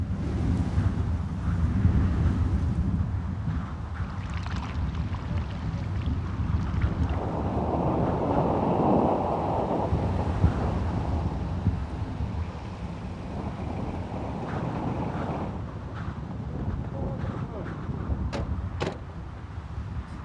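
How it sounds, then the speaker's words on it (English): Strong, steady sandstorm wind roars and buffets the microphone without letup, a low rumble underneath and no voices. "a sandstorm is fast approaching"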